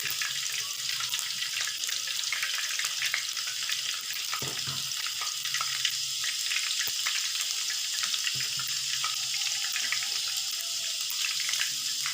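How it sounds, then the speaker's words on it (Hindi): Vegetable pakoras frying in hot ghee give a steady, fairly loud hiss and crackle that runs unbroken throughout, with no one talking. "घी हमारा गर्म हो चुका है, इसमें हम पकोड़े डालेंगे।"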